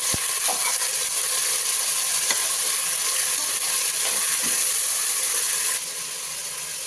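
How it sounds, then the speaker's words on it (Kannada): Minced mutton fries in a pan for keema sambar, giving a steady, loud broadband sizzle with faint scraping ticks throughout, dropping slightly in level near the end; no voices. "ಹಾಕಿ ಮಟನ್ ಹಾಕಿ ಫ್ರೈ ಮಾಡಬೇಕು."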